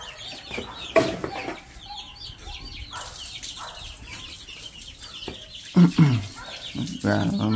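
Chickens clucking in a rural Vietnamese yard, scattered calls rising and falling, with a louder burst of clucks near the end and a voice speaking intermittently underneath.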